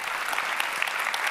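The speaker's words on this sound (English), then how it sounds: "So let's make them all together now regular applause as well." Steady, dense applause from a crowd at a business accelerator pitching session, continuous and fairly loud throughout with no talk over it.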